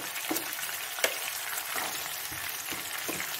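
Chicken pieces frying and being stirred in a pan for a gravy dish, a continuous soft sizzle with a few spoon scrapes and taps, moderately close and without talk.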